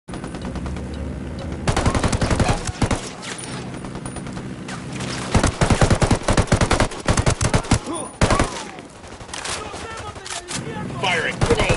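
Rebels at Santa Blanca firing in Ghost Recon, with loud, close bursts of automatic gunfire in rapid rhythmic volleys, pausing briefly and then resuming as the shooting intensifies.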